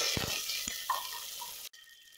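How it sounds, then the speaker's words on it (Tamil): Curry leaves and chilies sizzle in hot oil in a pan for a cabbage curry, a steady close-up crackling hiss with a few pops, then it cuts off abruptly. "கருவேப்பிலை சேர்த்துட்டு இதை லேசாக வதக்கி விட்டுக்கலாம்."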